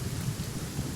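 Rain and thunder in the video game Genshin Impact, a dense, steady rush of rainfall with a low rumbling undertone, loud and continuous, no voices.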